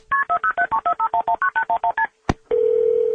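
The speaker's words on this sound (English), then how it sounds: "grabbed her phone and dialed 911" A rapid series of telephone keypad tones dialing 911 beeps in quick succession, followed by a short burst and then a steady, continuous dial tone.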